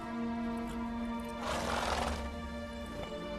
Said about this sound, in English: Ought to thank my horse, actually.